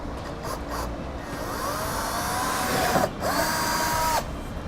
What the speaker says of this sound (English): So we use the proper size drill bit as indicated in the instructions and make our hole.